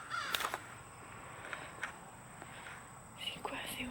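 Several birds call in brief, scattered bursts, sounding like crows cawing outdoors, with faint footsteps and soft voices in the background.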